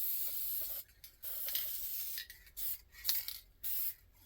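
A can of Duplicolor plastic adhesion promoter sprays close by in several short hissing bursts with gaps between them, as light coats go onto plastic interior trim of a Foxbody Mustang.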